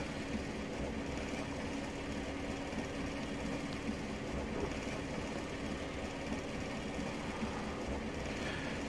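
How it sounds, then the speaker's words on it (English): Class 105 diesel train running in Train Simulator Classic on the Sunderland to Middlesbrough route, a steady rumbling engine drone with continuous rattling clatter, even and unbroken throughout. "I've got to say the Class 105 is driving very nicely indeed"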